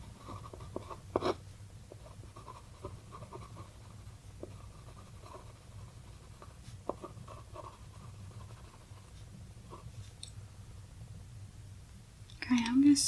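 Soft, close pen-on-paper writing in an ASMR session, light scratchy strokes and taps at an intimate level with whispered soft talking throughout and a brief louder rustle at the end.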